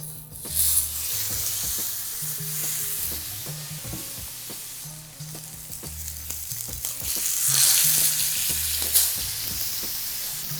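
Steak searing in a smoking hot oiled pan, a constant loud sizzle with crackles and occasional clatter of the pan, swelling briefly partway through, with nobody speaking.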